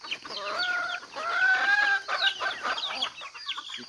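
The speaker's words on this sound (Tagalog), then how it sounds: "Dalawang sisiw." Newly moved chicks peeping in their new house, rapid high chirps and cheeps in an almost continuous close, lively chorus.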